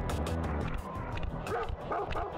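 Dog barking in the video game Sly Cooper and the Thievius Raccoonus, a few short yips and woofs in quick succession over game background sounds.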